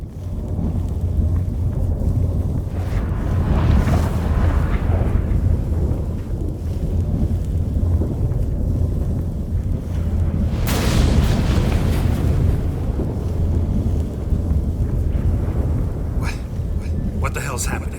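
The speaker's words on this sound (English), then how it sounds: "That a storm?" Thunderstorm in The Witcher 3: Wild Hunt, heard as a continuous deep rumble with two loud bright cracks of thunder, one near the start and a sharper one about two-thirds through, with voices speaking over it.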